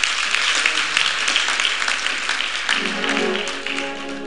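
Applause for a child at a family gathering, a dense sustained patter of many clapping hands that carries on throughout, with tonal voices or music rising beneath it toward the end.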